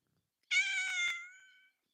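A single clear cat meow, close and fairly loud, rising then trailing off over about a second, heard alone against near silence.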